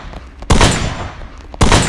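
Two loud, close gunshots in Free Fire MAX, about a second apart, each a sharp blast followed by a lingering noisy tail, with no talking.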